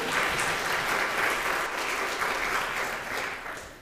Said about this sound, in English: I've never had a round of applause before a service.